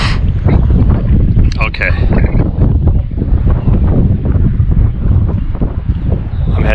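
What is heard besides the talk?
wind blowing at the top of the Elba fire tower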